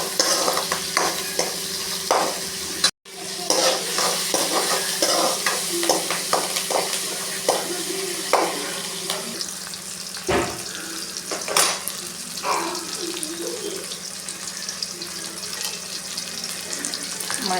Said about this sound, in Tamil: கொஞ்சம் நல்லா எண்ணெயில் வதங்கட்டும்.